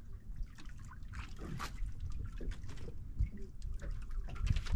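Steady river current flowing and trickling at a fishing spot where grouper are caught, a continuous watery wash with small splashes, fairly close and moderately loud.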